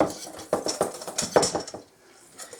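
A whisk beats dry gravy mix with pepper and parsley flakes in a bowl, making quick rhythmic clinks and scrapes that fade to near quiet before a few faint taps.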